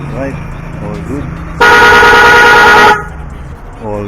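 A snail horn fitted to a motorcycle sounds one loud, sustained blast of about a second and a half, close by, with people talking before and after it.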